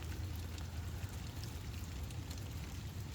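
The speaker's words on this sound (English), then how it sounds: "I'm listening to the sound of the rain as it hits the cooling system out there and the covering for the window well and just hitting the pavement." Rain falling at night on an outdoor air-conditioning unit, a window well cover and pavement, a steady close patter of drops with a low rumble underneath and no talking.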